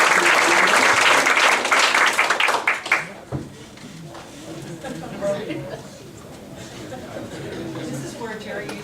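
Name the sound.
round of applause for teachers at a board meeting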